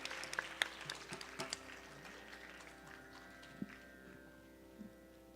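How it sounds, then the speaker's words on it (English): Thinning applause fades out after a Bharatanatyam arangetram dance recital, with scattered individual claps and a few louder sharp hits over a faint sustained musical drone. "Please join me in giving her another round of applause."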